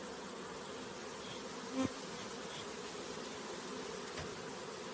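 Faint, steady buzzing of bees close by, a low continuous hum with a couple of brief clicks or taps.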